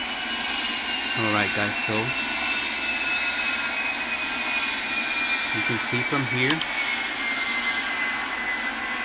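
Propeller airplane engine in Real Flight Simulator by Rortos, flying on autopilot, a steady droning hum with a high whine running the whole way under a voice that talks in two short bursts.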